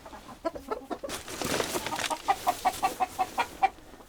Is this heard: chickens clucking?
yes